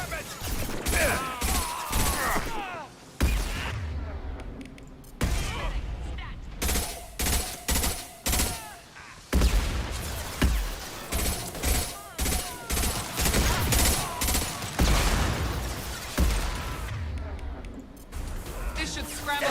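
Heavy weapons gunfire in the video game Mass Effect 2 Legendary Edition: loud, repeated bursts and blasts with short pauses between them, mixed with voices shouting during the fight.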